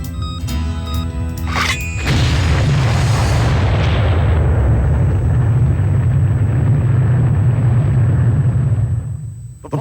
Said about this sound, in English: Hammer, you can't defuse that bomb.